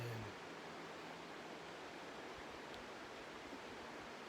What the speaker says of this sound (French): près de ma rivière que vous entendez dans le fond